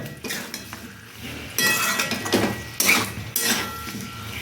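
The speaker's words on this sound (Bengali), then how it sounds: "দিয়ে আবার একটু ভালো করে এইভাবে কষিয়ে নেব" Elephant foot yam curry is stirred and sautéed in a pan, with a spoon scraping and clinking against the metal in several distinct bursts, close and fairly loud, and no talking.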